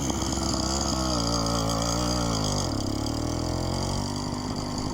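A car drives past on a road while a loud, carbureted mini bike engine idles and revs up close, the passing vehicle's pitch sweeping downward midway as it goes by.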